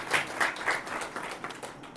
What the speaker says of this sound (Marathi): टाळ्या वाजवून देवाला धन्यवाद द्या